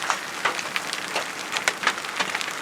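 Giant hail falls on a field in Park Ridge, Queensland, during a Halloween storm, as steady clattering impacts hammer the ground with sharper close hits at irregular moments; no voices.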